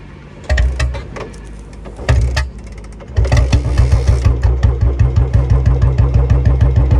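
A Bullet motorcycle engine cranks in two short bursts, then catches and idles fast at high RPM. It makes a loud, close, steady thumping beat, with no talking.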